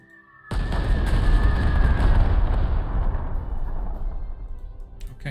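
Artillery in the war game Panzer Corps 2 fires in rapid mode: after a short quiet lead-in, a loud blast starts a dense, rumbling barrage that fades slowly over several seconds.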